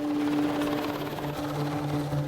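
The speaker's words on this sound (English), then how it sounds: "A helicopter from Colrose, they approached" A rescue helicopter from Colrose nears over Loch Ness, its rotor and engine a steady, loud, continuous drone with no voices.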